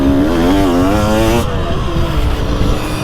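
A 2023 GasGas TX300 Heritage Edition TBI two-stroke dirt bike engine revs loud and close, its pitch climbing and wavering for about a second and a half before dropping to a rough, steady idle.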